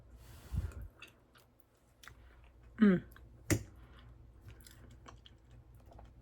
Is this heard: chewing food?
yes